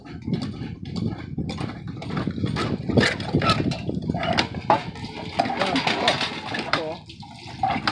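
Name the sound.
water from a hand pump at a well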